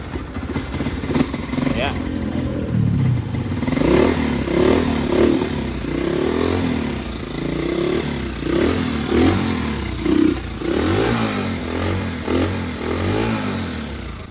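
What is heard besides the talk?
Honda TMX 155 motorcycle engine started and running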